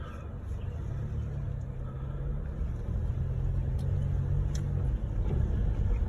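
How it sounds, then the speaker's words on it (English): A car rolls in through a gate on Chilliwack River Road, its engine a steady, fairly loud low rumble that holds even throughout. "Back in your car, you now drive in."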